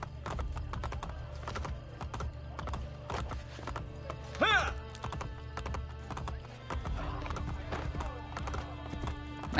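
Horse hooves clip-clop at a steady gallop through the Assassin's Creed Brotherhood game world, with a whinny partway through, all under a low rumbling game soundscape.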